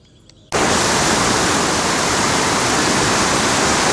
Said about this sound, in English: This is the first of 3 falls in the park.